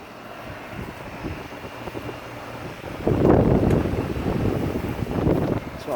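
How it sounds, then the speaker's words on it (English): A 2007 Luxaire Climasure 1.5-ton heat pump with a Bristol reciprocating compressor runs outdoors, a steady droning hum that rises louder partway through, mixed with wind noise. "It's got a Bristol reciprocating compressor"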